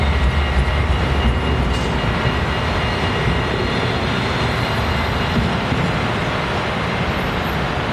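A tram on line 21 in Rotterdam rumbles past nearby with a steady, loud rolling roar and rail noise throughout, no voices.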